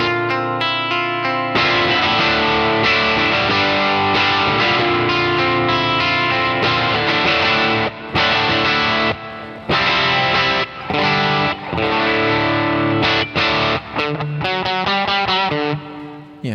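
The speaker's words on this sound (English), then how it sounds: "This is called a natural overdrive." An electric guitar played through a natural overdrive pedal gives a loud, driven, crunchy tone, with chords and single notes in a continuous phrase that briefly stops and restarts, ending in a quick run of notes.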